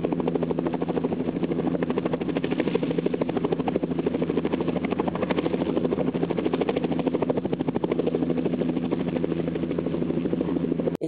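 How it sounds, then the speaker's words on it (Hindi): A helicopter hovers in front of an elephant, its rotor making a loud, steady rhythmic chop and engine drone that holds constant from start to finish with no talking. "आप देख सकते हैं इस वीडियो में कैसे हेलीकॉप्टर हाथी के सामने घुमा"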